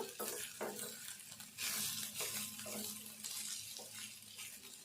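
Onions and moong dal frying in a pan for a Telugu onion-dal curry, a quiet sizzle broken by stirring scrapes and clinks, alone without speech.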